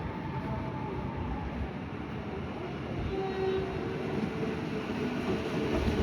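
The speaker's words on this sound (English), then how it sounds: "Here's an East Pakenham service arriving." Low, continuous rumble of an East Pakenham passenger train rolling into West Footscray station, growing slightly louder, with a faint sustained tone rising partway through.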